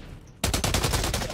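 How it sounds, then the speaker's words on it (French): M4X rifle fire in the shooter game Blacklight, heard as a sudden burst of rapid automatic shots in an even rhythm, close and loud after a brief quiet start. "Voilà, la M4X Rifle, comme arme qui vient juste de me tuer."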